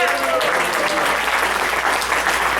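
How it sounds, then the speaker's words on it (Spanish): A church congregation breaks into loud, sustained applause during a Good Friday service, a thick, even roar of clapping with some voices mixed in from the crowd. "Dale un aplauso al Señor."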